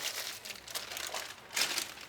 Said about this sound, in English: Let's go ahead and cut this tape off of here.